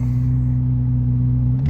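A 2025 Chevrolet Corvette Z06 convertible sits with its engine running in Z mode, a deep, steady, loud idle drone that holds through the stretch before a slight shift at the end.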